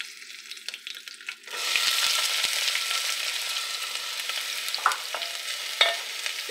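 Onions with green chillies and curry leaves sautéing in a pan for butternut squash chutney: a sudden loud sizzle swells after a quieter start, then a steady close hiss with a few brief stirring clatters, no voices.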